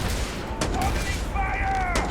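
Gunfire crackles in the Starfield video game, a couple of sharp bursts standing out over a dense backdrop of combat noise and shouted voices.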